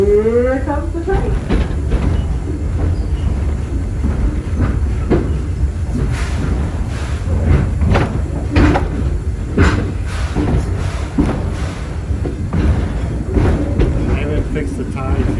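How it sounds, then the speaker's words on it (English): A train rolls along bumpy railroad track, giving a continuous heavy rumble broken by rhythmic clacks and thumps, with voices faintly mixed into the noise. "Here comes the train."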